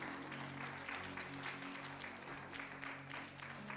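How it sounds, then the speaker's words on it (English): A church congregation claps together in sustained praise applause, a dense, steady patter of many hands filling the room at even loudness throughout. "give God a hand clap of praise"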